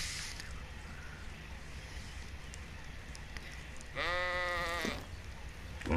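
A baby Aberrant Ovis sheep in ARK: Survival Evolved gives one clear, loud bleat of about a second near the end, over steady game background noise.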